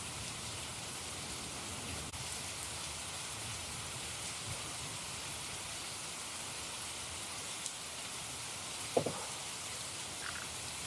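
Steady rain-like hiss from a nature sound effect, an even wash of noise throughout with a faint brief knock near the end and no voices.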